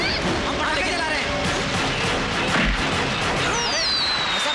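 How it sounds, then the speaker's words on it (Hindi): Firecrackers keep bursting in a street with loud cracks and bangs, while a voice shouts over the noise. "हम पटाखे चला रहे हैं।"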